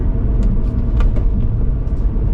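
A 2009 BMW 135i with manual gearbox and twin turbos rumbles from inside the cabin while downshifting, a loud low droning engine hum with faint clicks above it.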